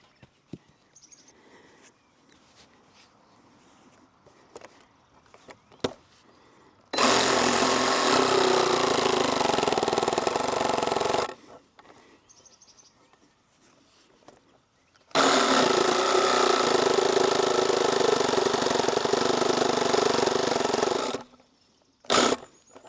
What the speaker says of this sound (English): I'm going to get that Sawzall and I'm going to notch this